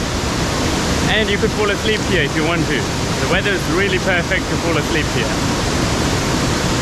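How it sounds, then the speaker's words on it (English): Steady broadband rush of the Paraty waterfall fills the whole stretch, with a person talking calmly over the constant roar. "You can hear the waterfall quite nicely"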